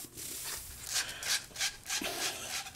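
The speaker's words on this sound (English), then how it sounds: "I'm just using a little sand cloth here to clean the pipe up." Sand cloth rubbed back and forth over PEX plumbing pipe to clean it, a series of close, rhythmic scraping strokes with short pauses between them, no voices.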